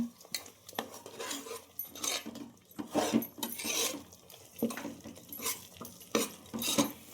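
Masala of spices fries in an oil-coated pan for avarekalu belebath, with a metal spoon scraping and clattering in irregular bursts of stirring; close, fairly quiet, no voices.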